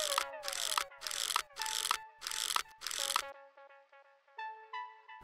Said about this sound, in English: Finally, unscrew and remove the motherboard.